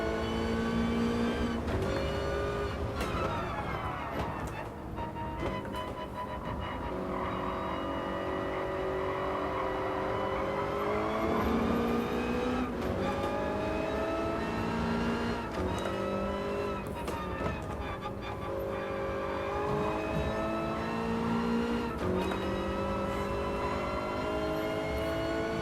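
Race car engine in the Gran Turismo video game, a continuous loud drone with shifting revs as the car climbs and drops through gears, with brief tire squeal under it.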